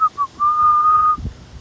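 A person whistles to imitate a piper bird's call: two brief high chirps, then one long, steady, clear whistled note, close and alone.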